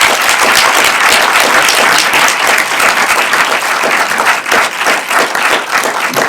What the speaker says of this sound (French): ils méritent tous vos applaudissements quand même